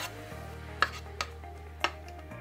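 Brown sugar, oil and oats being stirred together in a bowl for caramel ginger oat bars, a low steady rumble with three sharp clicks of the spoon against the side.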